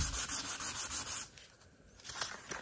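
Fine 360-grit sandpaper rubs over wood carrying wood filler during finish preparation on a guitar repair, quick rhythmic back-and-forth strokes, close and clear, easing off midway before resuming.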